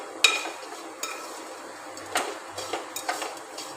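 Sweet boli payasam mixture stirred in a pot, with a spoon scraping and clinking against the metal in scattered soft taps, close and fairly quiet, no talking.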